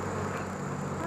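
Bees buzz around hive frames during a beekeeping inspection, a dense steady drone that hangs close and unbroken for about a second.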